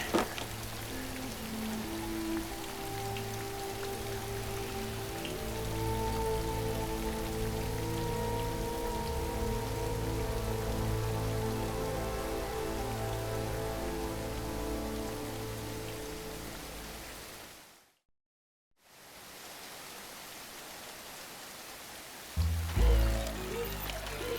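Steady rain pours down continuously, dense and hissing, broken by a sudden brief silence before resuming.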